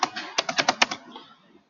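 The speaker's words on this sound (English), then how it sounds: "We're just typing in the alternate information." A burst of about eight quick keystrokes on a computer keyboard, entering flight plan details for a Denver to Grand Junction route, clicks sharply and close up, then fades into quiet.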